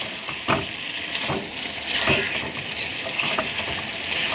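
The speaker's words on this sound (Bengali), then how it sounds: "আর একটু নাড়াচাড়া করছি" Potatoes frying in a pan while being stirred, a steady close sizzle with soft scraping strokes repeating about every second, no talk.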